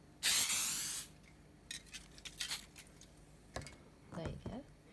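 Aerosol spray can misted onto paper cutouts laid on newspaper for a DIY glam entry table, one long loud hiss followed by several shorter bursts, then rustling and handling noises.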